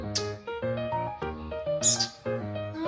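Bird sounds heard by an excited baby bird, a run of close, harmonic calls and chirps repeating in short bursts with brief gaps, clear and fairly loud.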